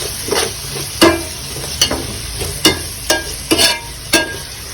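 Beans and fish stir-fried in oil with salt, a low sizzle under repeated sharp scrapes and knocks of a spatula against the pan, about eight strokes in an uneven rhythm.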